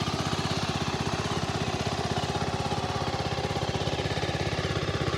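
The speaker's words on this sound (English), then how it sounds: "so she's running. Not a loud bike at all, right?" A 2026 Beta Alp 4.0 motorcycle idles close by with a steady, even putter of rapid regular pulses, fairly quiet and unbroken throughout.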